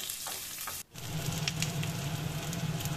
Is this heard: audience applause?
no